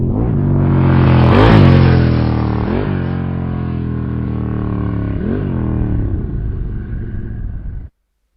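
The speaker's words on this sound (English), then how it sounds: "it's a Harley. Or a motorcycle." A Harley motorcycle engine revs loud and close. It swells to a throaty peak early, then holds a rough, rumbling idle with small surges before it cuts off abruptly near the end.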